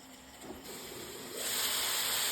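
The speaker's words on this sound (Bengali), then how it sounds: "এরকমভাবে আমি আস্তে আস্তে সবজিগুলোকে ভেজে নেব।" Mixed vegetables frying in a pan with a little salt and turmeric give off a steady, airy hiss that swells noticeably louder halfway through, with no talking.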